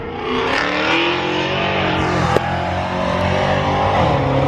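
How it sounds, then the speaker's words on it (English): A loud engine roars close by as a car passes, its droning, revving sound steady throughout with no talking. "a car that was much louder than my car just went by"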